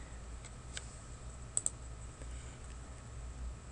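A few sharp computer mouse clicks, two close together in the middle, sound faintly and alone over a quiet room hum.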